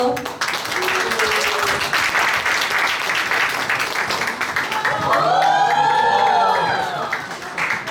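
Warm, sustained clapping and cheering from a book-launch crowd greets a performer taking the stage, filling the room throughout; a singing voice joins the applause midway and carries over it to the end.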